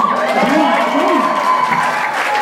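An audience at a band performance applauds and cheers, a continuous crowd roar with voices rising over the clapping for the whole moment.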